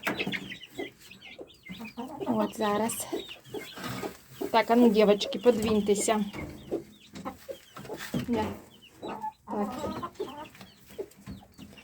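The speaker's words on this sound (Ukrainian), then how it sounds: "покажу, як квочечка вже з курчатами бігає" A broody hen clucks steadily among chirping chicks while someone talks over them nearby, in a July heat in Nikopol.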